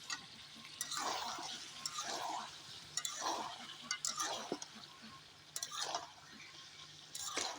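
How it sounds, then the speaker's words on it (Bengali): Potatoes and meat being stir-fried together in a pan for village-style home cooking, with a spatula scraping and stirring in repeated bursts roughly every second over a steady faint sizzle, close up and with no talking. "এখন আলুর সাথে মাংসের সাথে আবার ভালো করে আমি কষিয়ে নিব।"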